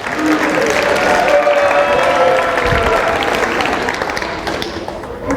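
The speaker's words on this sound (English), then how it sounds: "Everybody give him a round of applause when he comes up here." An audience at a school magic show claps in a sustained burst of applause, loud at first and gradually thinning out over about five seconds, with a little crowd noise mixed in.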